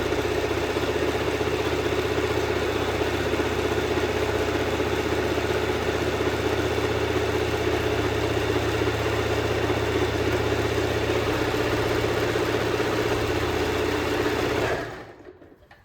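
A sewing machine stitches the end pieces of a pillowcase, running in one steady, even hum for about fifteen seconds before it stops suddenly.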